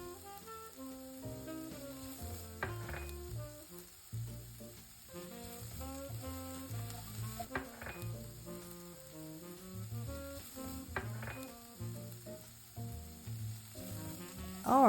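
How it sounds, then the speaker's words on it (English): Sandwiches browning in butter in a frying pan give a steady soft sizzle that runs through the whole stretch, half buried under louder background music. "I'm using butter to brown them"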